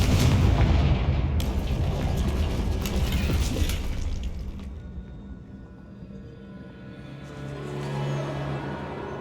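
The Confringo blasting spell goes off in Hogwarts Legacy on Xbox Series X with heavy booming explosions and crackling debris, then a long rumbling decay settles into quieter game ambience.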